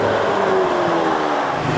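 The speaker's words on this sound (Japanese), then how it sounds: "V12 のフェラーリ初めて乗ってるんでめちゃくちゃ楽しいです" A Ferrari 599 with a front-mounted V12 pulls along the road, its engine giving a loud, smooth, steady drone with a slight falling pitch under load from inside the cabin.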